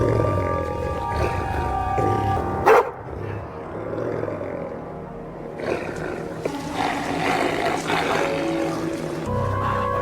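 A dog in the medieval game Kingdom Come: Deliverance 2 barks and growls amid loud game ambience and music, with a sharp burst near the middle and other animal cries around it.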